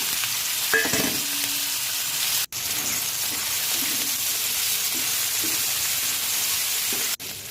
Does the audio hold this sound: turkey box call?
no